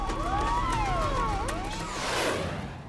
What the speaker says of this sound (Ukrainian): Нічну тишу струшує завивання пожежних авто.